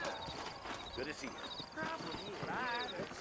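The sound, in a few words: horses' hooves in the video game Red Dead Redemption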